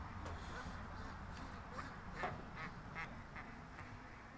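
A duck held close to the microphone gives a series of short, nasal quacks spaced through a few seconds over steady background noise.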